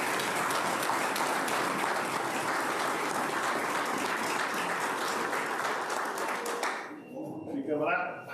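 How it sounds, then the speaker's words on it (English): A crowd at a county public safety awards ceremony gives a sustained round of applause, steady and full for several seconds before fading out into a few voices. "let's give them a round of applause."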